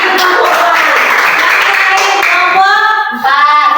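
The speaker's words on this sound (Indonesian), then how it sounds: "Tepuk tangan" Hands clapping in a classroom lesson on faith, a steady, dense patter of many palms close by that carries on for the full few seconds, thinning into a brief lull near the end.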